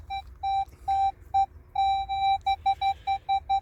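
A Garrett metal detector sweeps over a coin in the ground, sounding a series of clear, high electronic beeps. They come in short bursts, then quicken into a rapid run of pulses.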